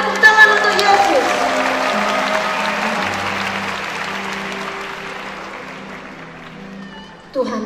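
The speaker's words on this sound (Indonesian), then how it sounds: "Beri kemuliaan dan tepuk tangan untuk Yesus." A congregation at a Christmas evangelistic service claps loudly together, a full burst of applause that slowly fades, with some voices and a sustained tone underneath.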